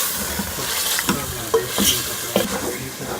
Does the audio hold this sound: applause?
no